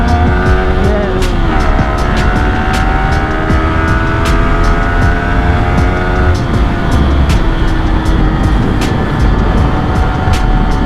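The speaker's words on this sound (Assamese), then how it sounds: "ये मेरा बाइक है" A motorbike engine hums steadily while riding, with shifting harmonic tones rising and falling as speed changes, loud and continuous with faint background clatter throughout.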